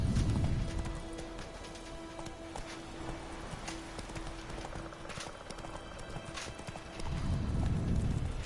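Horse hooves clip-clopping at a run in The Witcher 3: Wild Hunt, steady and close, with a whinny and a steady tonal game hum behind them, and a louder low rumble at the start and end.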